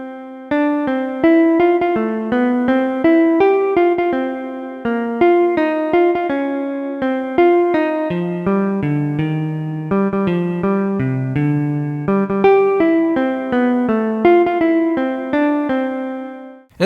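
A reworked Happy Birthday melody stitching together its retrograde, inversion and original forms, played on a bright plucked synth-like tone as a continuous single line of crisp notes in steady rhythm, with no talking.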